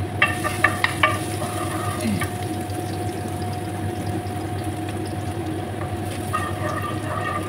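Garlic frying in olive oil in a pan gives a steady, continuous sizzle with a few light clicks and taps near the start.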